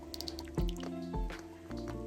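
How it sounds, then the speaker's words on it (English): Water drips off curled American Girl doll hair after a dip in hot water, several close, wet drops and trickles falling in quick succession with no talking. "let it drip off, and then I just like wipe it on the towel like that"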